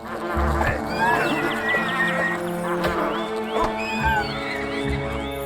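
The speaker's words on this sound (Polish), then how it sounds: "Tutaj jeszcze zabijemy te osy" Wasps buzz in Fable: The Lost Chapters, a steady insect drone mixed with rising whistling tones and game ambience, fairly loud and continuous with no one speaking.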